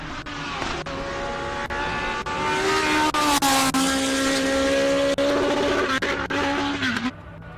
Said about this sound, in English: Oh, just hit the rev limiter there, I think.